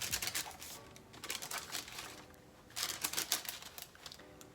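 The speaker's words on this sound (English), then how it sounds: "A little tissue paper with their logo." Crinkly rustling of logo-printed tissue paper inside a GlossyBox beauty subscription box, in short close bursts with pauses between handling.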